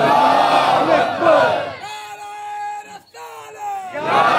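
A large crowd at a Shia majlis gathering roars a religious slogan response, a loud massed shout, then a sustained sung chant of many voices, followed by another surge of crowd shouting.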